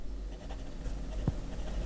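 A Jinhao 159 fountain pen with a medium steel nib glides across paper, producing a soft, faint scratching with a brief louder stroke near the end, quiet and close.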